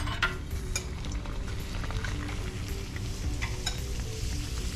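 Tuna basil rolls searing in hot oil give a steady, close sizzle with faint crackles throughout, no voices over it.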